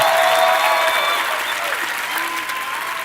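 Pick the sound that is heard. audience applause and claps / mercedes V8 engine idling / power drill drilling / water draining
audience applause and claps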